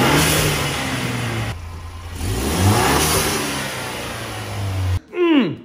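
A 2020 Ford Ranger with a 2.3-liter EcoBoost engine revs up and down several times, the rising engine note loud and close, ending with a quick turbo whoosh and flutter.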